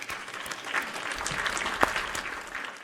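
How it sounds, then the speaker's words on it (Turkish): A crowd breaks into steady applause, a dense wash of many hands clapping at once, holding fairly even with a brief louder burst near the end. "Bir alkış hak etti."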